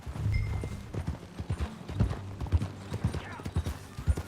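Video game horse hooves in Red Dead Redemption 2 clip-clop at a steady trotting rhythm over a low background rumble, with an occasional faint whinny.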